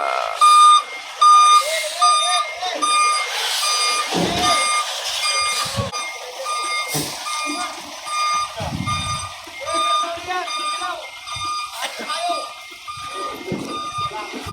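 Trucks reverse aboard a ship, their backup alarms sounding steady repeating high beeps close by, with people talking and shouting over the loud, echoing bursts of engine noise.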